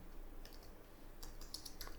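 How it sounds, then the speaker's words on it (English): Quiet computer keyboard typing during a JavaScript coding lesson: a short run of light, scattered key clicks over faint room hiss, with no voice. "I'm gonna type in here"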